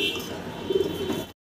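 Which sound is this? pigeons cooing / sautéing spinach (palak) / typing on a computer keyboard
pigeons cooing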